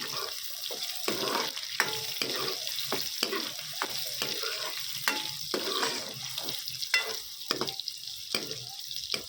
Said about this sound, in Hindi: अब चर्बी गल गई है, अब इसमें डालते हैं 1 अदद प्याज जो मैंने बारीक काटा हुआ है।